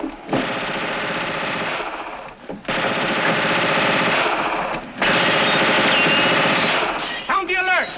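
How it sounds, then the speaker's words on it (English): Long sustained bursts of automatic machine gun fire, loud and close, with brief pauses between volleys. "Sergeant, investigate that gunfire."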